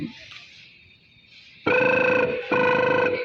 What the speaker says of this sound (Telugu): రింగ్ వేస్తున్నది